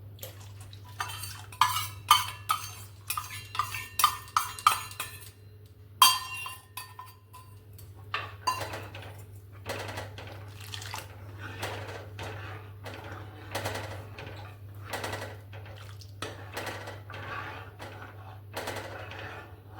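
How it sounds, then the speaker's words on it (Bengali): Dissolved custard powder is poured into hot milk and stirred in a metal pan, with a spoon clinking and scraping against the sides in quick repeated strokes, then slower, softer stirring over a steady low hum. "এবার এই গরম দুধের মধ্যে যে কাস্টার্ড পাউডারটা আমি গুলে রেখেছিলাম সেটা দিয়ে দেবো।"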